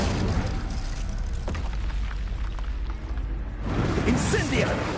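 Fire spells blasting in Hogwarts Legacy on PS5: loud booming bursts and crackling whooshes over a dense, continuous battle din, with a brief lull before another flare-up.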